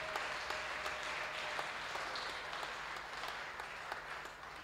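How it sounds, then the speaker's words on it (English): Steady audience applause in a church hall after children's Sunday school plays and presentations, a dense even wash of many hands clapping that holds for several seconds before easing slightly at the end. "a round of applause?"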